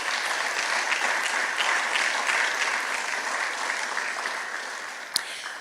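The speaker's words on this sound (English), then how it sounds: "Everybody give them a huge round of applause." An audience at a university business scholarship breakfast applauds students, a dense, steady round of clapping that holds evenly for several seconds with one sharp knock near the end.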